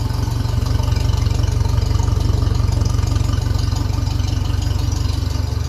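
A 1957 Ferguson 35 tractor running on TVO idles close by, a steady, loud low chugging throb with even rapid firing pulses and no change in pace.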